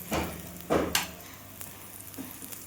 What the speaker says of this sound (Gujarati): આપણું બીજું આલુ પરોઠું પણ શેકાઈ રહ્યું છે